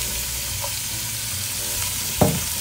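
Garlic dropped into a preheated pan of hot olive oil, frying for lentil soup with leftover ham: a steady broadband sizzle with a sharper burst of crackling as it hits, then continuing fry.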